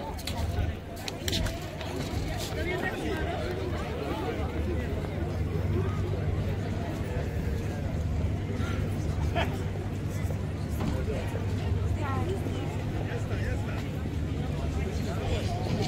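Dense crowd hubbub from a huge tourist crowd at the Eiffel Tower in Paris, a steady wash of many overlapping voices with a low rumble underneath, continuous and moderately loud throughout.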